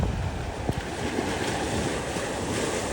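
Ocean surf rolls and washes along an empty beach in the rain, a steady broad roar of waves mixed with wind buffeting the microphone.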